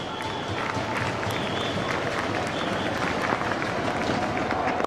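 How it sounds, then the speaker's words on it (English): A large cricket crowd at a 1999 Test match between Australia and India applauds and cheers steadily, a dense wash of clapping and voices that stays loud throughout. "Particularly when Lee was on that 100, they were standing and cheering him."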